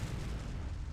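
A spaceship weapon volley in the video game Star Trek Online, heard as a single second of dense, low, booming rumble with no break.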